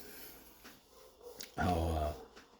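A dog in the background of a warehouse gives a few faint sounds, then one loud, harsh bark or growl lasting about half a second, with no talking.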